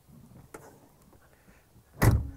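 The side door of an off-road campervan built on a Mercedes-Benz van is pulled shut, landing as one loud, close thud near the end after a few faint rattles and knocks.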